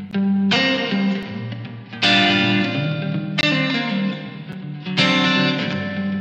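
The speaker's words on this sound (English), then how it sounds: "this is a reverb and delay pedal." Electric guitar through a boutique reverb and delay pedal, four strummed chords struck about every one and a half seconds, each decaying into a lingering reverberant, echoing tail.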